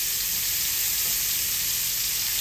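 Shrimp frying in hot bacon grease in a pan, a loud, dense, continuous hiss and sizzle close up, steady and unbroken from start to finish with no talking.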